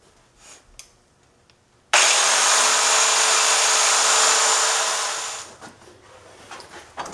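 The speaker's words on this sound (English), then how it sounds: "I'm just gonna take a jigsaw with a metal blade and" A jigsaw fitted with a metal blade cuts through metal sheet, a loud steady rasping buzz that starts abruptly, holds for about three and a half seconds, then stops, with quiet handling noises before and after.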